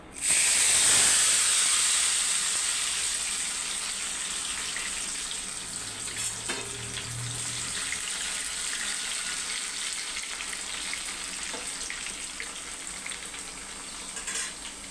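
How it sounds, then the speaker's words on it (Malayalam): Jackfruit pieces coated with turmeric and salt frying in hot oil, giving a loud, steady sizzle with hiss and bubbling that surges as they go in and then settles into a continuous crackle. "ഇത് ഈ എണ്ണയിലോട്ട് ഇട്ട് കൊടുക്കും. എണ്ണ നല്ലോണം ചൂടായി അതിനകത്തേക്ക് ഇടുക."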